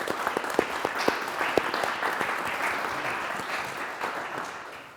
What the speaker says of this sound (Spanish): Bueno, habrá que aplaudir, ¿no?